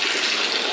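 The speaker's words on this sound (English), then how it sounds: "So I'm draining my coolant. It's just water." Plain water used as coolant drains from a BMW M3 engine, a loud, close, continuous rushing splash that lasts under a second.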